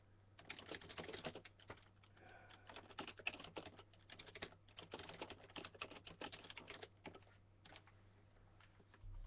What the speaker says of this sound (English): let me type to Haru